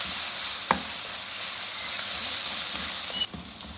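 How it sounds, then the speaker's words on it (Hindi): Steady sizzling of garlic frying in a hot pan, a continuous crackling hiss with a brief clink partway through. "3 मिनट भूनना है कि लहसुन का कच्चापन खत्म हो"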